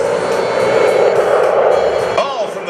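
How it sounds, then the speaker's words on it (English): Military jets from the first fighter wing at Joint Base Langley-Eustis roar on their takeoff roll, a loud, sustained broadband jet rumble that shifts in pitch near the end as the aircraft pass. "I believe we've got aircraft on the roll now"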